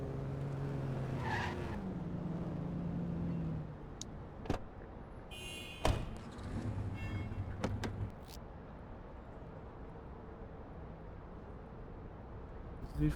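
A car skids under a pulled handbrake in The Precinct, a police video game: a loud tire screech with engine drone for about four seconds, then softer scattered clunks and road rumble.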